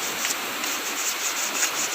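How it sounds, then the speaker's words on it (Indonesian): Sandpaper rubbed steadily over a part, a continuous close, dry scratching hiss with small rhythmic swells and no speech. "Kita gosok pakai amplas."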